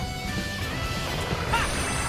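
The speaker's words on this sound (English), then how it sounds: "Then to just keep smashing down on it." A smash attack lands on an enemy in Sonic the Hedgehog (2006): a crashing impact within dense, continuous game noise, with a brighter burst of sound toward the end.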